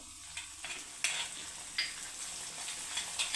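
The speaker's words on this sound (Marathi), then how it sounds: "आता हा मसाला आपण दोन मिनटं परतवायचा आहे" Whole spice masala with asafoetida sautés in hot oil for Khandeshi sev bhaji, a faint, low sizzle broken by periodic scraping stirs of a spoon against the pan.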